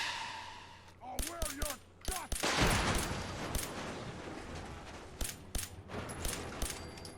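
Rapid gunfire bursts from a Glock pistol in the video game Fallout 4, several sharp shots in quick clusters over steady background ambience, fairly loud and close.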